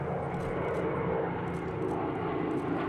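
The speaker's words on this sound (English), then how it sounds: "Moments later, 2 P-51 Mustangs flew astride an A-26 Invader, the same kind of plane that Sizemore and An" Vintage military aircraft, two P-51 Mustangs flanking an A-26 Invader, fly over a memorial service, giving a steady, loud, rumbling engine drone that fills the whole stretch without talk.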